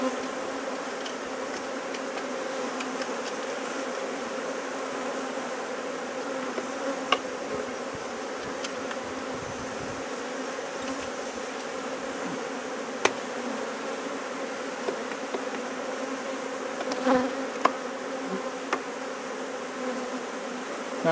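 Honeybees hum in a dense, steady drone at an open hive while two colonies are united by the newspaper method, with a few sharp clicks and knocks of hive work breaking through.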